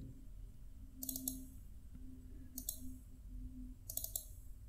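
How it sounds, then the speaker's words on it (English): Computer mouse double-clicked three times while drawing parking lot lines in a scenario editor, each a quick pair of faint, crisp clicks spaced evenly over a low steady hum. "double click"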